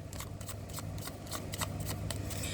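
Tarot cards are shuffled by hand in a steady, close, papery rhythm of rapid riffling flicks, continuous for a couple of seconds at an even, moderate loudness, with no voice over it.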